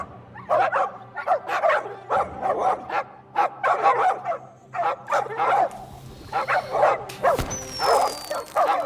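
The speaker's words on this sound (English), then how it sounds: "Get him, piranha dogs." Piranha dogs in the Sea of Thieves pirate game bark and yip in rapid, loud bursts, with whimpers mixed in, and a sharp high whistle-like game effect near the end.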